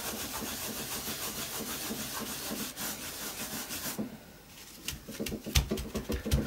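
Quick hand rubbing across a mini art journal page worked with Distress Oxide sprays: a steady, close scrubbing texture for about four seconds, then shorter, choppier rubbing strokes with a few sharper scuffs.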